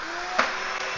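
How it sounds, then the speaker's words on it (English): A Makita cordless vacuum cleaner runs at a steady, loud, close whine with a brief surge in the middle of the sound. "And then we can put our vacuum cleaner end on it."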